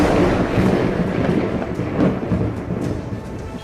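Heavy rain and thunder during flooding, a dense, steady roar of downpour with low rumbling throughout, loud and continuous with no voices.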